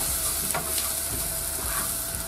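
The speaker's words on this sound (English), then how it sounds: "Just mix it up a little bit with the butter." Fond de veau stirred with butter in a hot pan, giving a steady sizzle with a few light scraping strokes, close and moderately quiet, no one talking.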